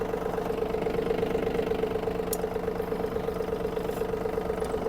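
A Yanmar F-200 mini tractor engine idles steadily nearby, a constant mid-pitched diesel drone with a faint knocking pulse and no speech.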